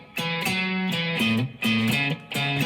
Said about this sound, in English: But you can also play it with a swing rhythm,